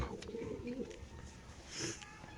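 A Musaldam pigeon coos in short low bursts close by, with a brief higher chirp near the end and faint background noise.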